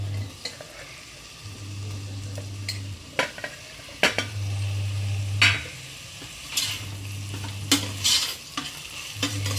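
Tomatoes sizzle in a pan while a utensil stirs and scrapes repeatedly, with intermittent clanks against the pan and a low hum coming and going.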